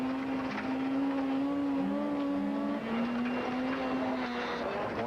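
A rally car swings through a rutted gravel corner, its engine droning loud and steady with pitch dipping and rising as it lifts and accelerates, close and continuous.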